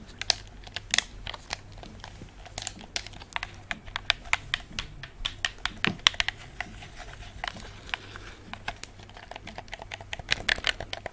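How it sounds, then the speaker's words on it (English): Sharp plastic clicks of game controller shoulder buttons tap out in quick, irregular bursts, close and fairly quiet, like buttons being pressed repeatedly. "The shoulder buttons are pretty good though. Very clicky."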